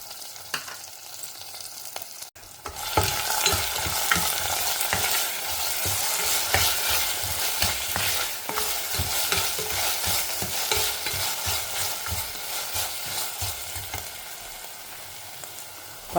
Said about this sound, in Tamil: இஞ்சி பூண்டு விழுதியும் போட்டிருக்கேன். இதோட ஆனியன் சேர்த்துக்கிறேன்.